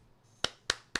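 Three sharp, separate hand claps spaced about a quarter second apart, close and crisp over a quiet room background.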